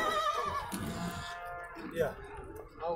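A horse whinnies at a busy horse market, its call rising over steady overlapping talk from nearby people for the whole three seconds, with a second shorter neigh near the end.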